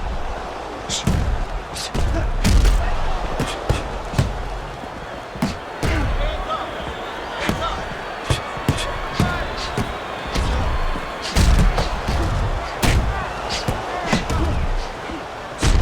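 Punches land in a Fight Night boxing video game bout between Ellis and Pacquiao, a stream of sharp thuds and slaps in quick flurries, loud and close under continuous commentary.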